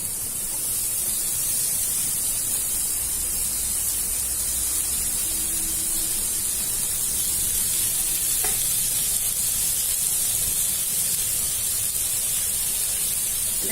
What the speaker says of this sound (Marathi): त्याच्यात आपण टमाटे टाकतोय